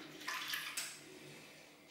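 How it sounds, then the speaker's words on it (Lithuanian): Spinach leaves rinsed under a running kitchen tap, a close, steady gush of water with a couple of brief splashy surges as the leaves are moved. "Kaip matote, plaunu po krano vandeniu"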